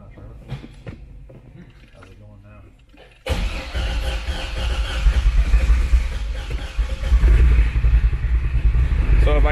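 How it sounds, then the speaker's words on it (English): A drift car engine cranks and catches abruptly, then idles roughly and climbs in loud, rising revs as throttle is added, close up, after someone speaks quietly beforehand. "So if I give it a little throttle, it fires right up."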